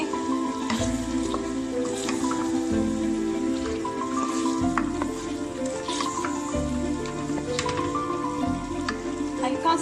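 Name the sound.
chicken and potatoes frying in masala in a pan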